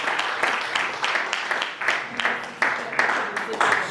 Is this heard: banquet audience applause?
yes